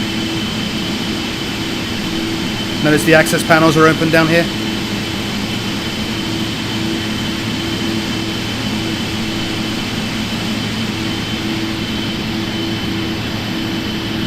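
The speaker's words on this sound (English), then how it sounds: "we're getting warnings now because the engines are running" Steady drone of simulated airliner engines running with the doors open, a loud even turbine hum and whine throughout, with someone speaking briefly over it partway through.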